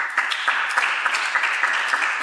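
An audience at a spiritual discourse in Rajnagar claps in a dense, steady burst lasting about two seconds, the sound even and fairly close, with no voices over it.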